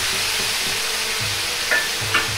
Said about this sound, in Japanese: 醤油を大さじ1と1/2を鍋肌から入れ香ばしさを出します